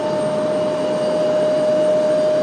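A jet aircraft passes near RDU airport with a steady, loud roar and a thin whining tone running throughout, with no talk.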